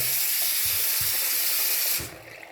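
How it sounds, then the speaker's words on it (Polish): Cold water runs from a kitchen tap onto bananas being rinsed, a loud steady hiss with soft irregular splashes underneath, and the flow cuts off near the end. "banany opłukuję zawsze pod chłodną, bieżącą wodą"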